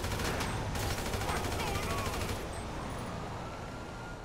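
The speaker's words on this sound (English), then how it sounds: "Let's kill him with the AK." AK rifle fire in GTA 5 Online, a steady rapid burst of loud shots for about two seconds, then fading into a softer, thinning rattle.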